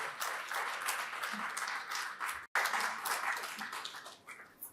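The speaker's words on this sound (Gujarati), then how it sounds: "એકવાર આપણે તાળીઓથી અલ્પાબેન અને રુજુલભાઈને વધાવીએ" An audience at a Gujarati book launch bursts into sustained applause, a dense even clapping that runs for several seconds. It breaks off once, then resumes and fades toward the end.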